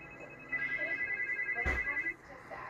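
A phone rings from an unknown number: a steady electronic tone repeats for about a second and a half, cut briefly by a sharp thump, over faint room noise.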